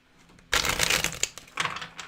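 Tarot cards being shuffled close up: a quick riffling burst after a brief pause, then a second shorter shuffle.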